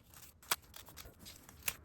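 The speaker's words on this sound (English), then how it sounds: "we're gonna cut up a few more pages so that we can continue numbering." Scissors snip through paper pages being cut up for a collector's binder, two sharp, close cuts about a second apart over a faint rustling background.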